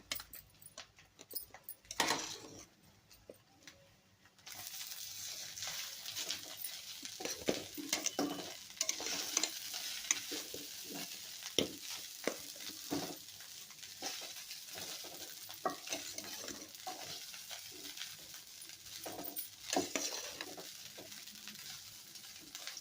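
Egg fried rice tossed and stirred in a hot pan, with repeated scraping and clinking of a spatula over a continuous sizzle, close and busy, after a few sharp knocks at the start.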